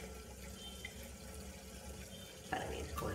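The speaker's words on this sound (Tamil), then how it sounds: "நல்ல தண்ணியை ஊத்தி நல்லா இது போல அலம்பிக்கிங்க" Water from a tap runs while soya chunks are washed in a kitchen, a faint steady trickle with small splashes and a louder gush near the end.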